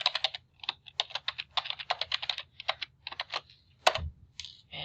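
Fingers type a username and password on a computer keyboard, a close, steady run of quick key clicks in short bursts with brief pauses and one heavier keystroke near the end.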